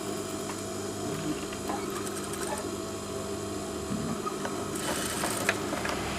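A sewing machine stitches a zipper seam into lining fabric. It makes a steady close mechanical whirr with rapid needle clatter, and a brief brighter rattle comes near the end, with no voices.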